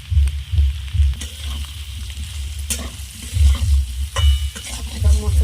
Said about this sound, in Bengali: সব মশলাগুলো আমি আলুতে আর পনিরে মিশিয়ে নেব